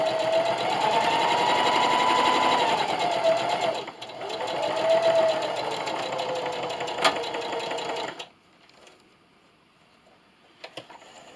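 Sewing machine stitching and backstitching a Christmas stocking, a close, steady motor hum with rapid needle clatter that briefly dips and resumes, then stops, leaving near quiet with a couple of faint clicks.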